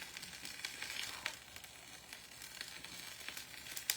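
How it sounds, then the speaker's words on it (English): Curry with coconut milk sizzles and bubbles steadily in a pan, a faint, even frying hiss with small crackles and no talk. "I hear it sizzling in the..."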